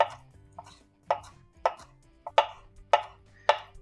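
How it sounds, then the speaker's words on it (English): A knife chops fresh basil finely on a board, giving a run of crisp, close taps in loose rhythm, with isolated strikes at first and steadier regular chops building toward the end. "I'm going to chop it really, really fine"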